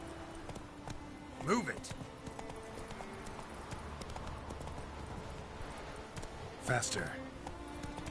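Hooves of the horse Roach in The Witcher 3, a steady clip-clop running through the whole stretch, joined by two brief louder bursts, with someone talking now and then over the top.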